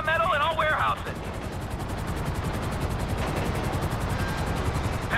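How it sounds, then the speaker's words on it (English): Helicopters in a video game heist, a steady loud rotor chop and engine rumble with dense broadband noise running throughout, while a short burst of voice sits over it at the start. "There's two choppers coming toward my train."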